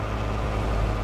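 Truck engine in Euro Truck Simulator 2, pulling a horse trailer at high speed: a loud, steady low-pitched engine drone with a dense rumble, constant for about a second.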